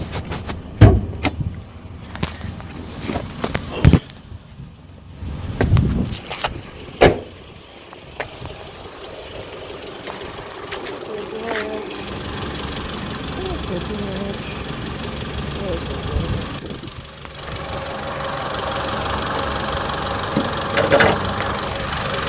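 A Mitsubishi Lancer's engine runs at idle: a few loud clunks and knocks come first, then a steady, close mechanical hum settles in, with a voice partly over it.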